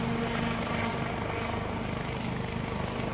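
A helicopter in a video game, reversing, gives a loud, continuous rotor and engine drone with steady low throbbing, heard close and alone.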